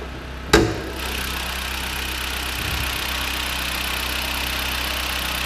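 A 2016 Jeep Patriot's 2-liter engine idles smoothly and steadily up close, after a single sharp thump near the start.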